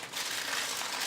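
Wrapper for conkies, a cornmeal treat, being folded down tightly by hand, giving a steady close crinkling rustle throughout with no talking.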